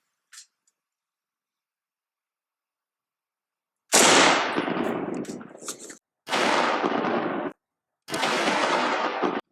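Three loud, close rifle shots from an M1 Garand in .30-06, fired at AR500 steel body armor, each a sharp blast with a rolling echo tail, separated by short pauses after a faint click.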